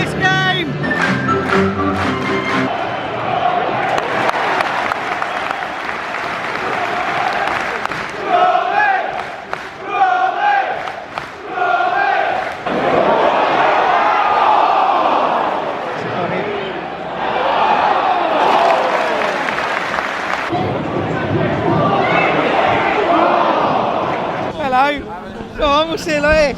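A large football crowd at a Portsmouth versus QPR match roars, chants and claps almost without a break, with people talking and shouting nearby throughout.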